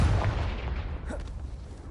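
The Confringo fire spell goes off in Hogwarts Legacy, a heavy booming blast at the start that fades into a rumbling, crackling tail over about two seconds.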